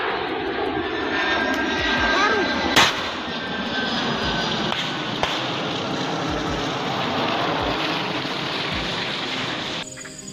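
A TNI transport airplane's engine roars loudly and steadily over Yahukimo, a continuous broad drone with a sharp crack near the start and another later, ending abruptly.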